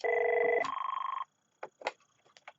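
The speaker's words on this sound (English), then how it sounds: "Kim, did you just auto dial me?" A 4412 desk phone rings after an auto redial, giving a short two-part electronic warble that stops after about a second. A few soft clicks and handling knocks follow in near silence.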